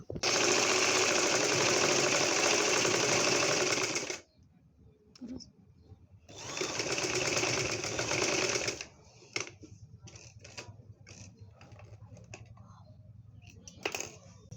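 A domestic sewing machine stitches the bodice of a baby frock in two long, loud runs separated by a pause. Light clicks and handling noises follow, with no talking.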